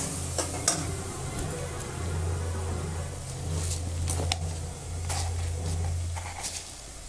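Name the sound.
spice paste frying in pan with a little water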